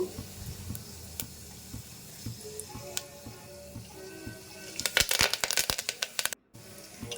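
Cumin, fenugreek seeds and curry leaves hitting hot oil for a Rayalaseema menthi pappu, heard as close crackling and spitting with stirring taps that builds into a burst of sharp pops near the end, with no speech.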